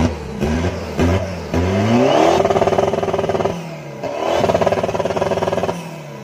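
A modified older Isuzu D-Max pickup with an aftermarket turbo and remapped tune revs hard in short bursts close by, its engine rising and falling several times with a rough, fluttering, pulsing exhaust note.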